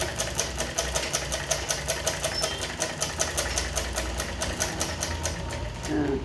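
A sewing machine stitches the lining of a shirt with a steady, rapid needle clatter in even pulses, close and continuous, before stopping near the end.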